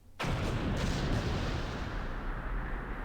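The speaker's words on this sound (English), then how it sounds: "Another explosion? What's going on this time?" Explosion in the Blue Archive video game, a sudden loud blast that begins abruptly and then rumbles on as a sustained, dense roar for several seconds, with no voices.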